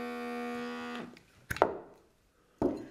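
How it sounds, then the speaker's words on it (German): A vacuum seal lid is pressed and pumped onto a glass preserving jar, a sustained tonal hum cutting off, then a sharp click and two hollow thumps, fairly close and quiet, no talk. "Den kann man einfach drauf machen. Dann saugt man hier das Vakuum fest."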